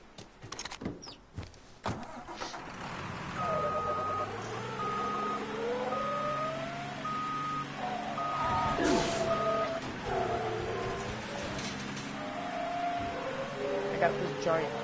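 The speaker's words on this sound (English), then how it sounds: "Got this giant truck and doing the missions." In a video game, a giant truck idles with a low engine rumble while steady reversing beeps repeat at an even pace, all under game sounds and a talking voice.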